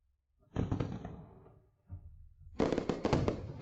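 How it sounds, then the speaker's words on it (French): Loud crackling bursts of fireworks, one burst fading, then a denser cluster of sharp pops and crackles, fairly close, with no talking. "Ces feux d'artifice sont réservés à la cour impériale offerts par Sa Majesté."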